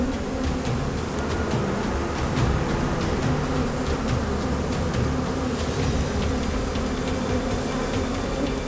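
Honeybees swarm around a hive during bee venom collection with an electrified glass-plate collector, filling the air with a dense, steady, close buzzing that never lets up, with no talking.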